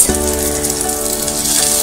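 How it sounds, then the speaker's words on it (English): Green peas hit onions frying in a pan, a loud close steady sizzle with a brief crackling burst as they go in. "after frying my onions for a little while, I'm now going to add my green peas"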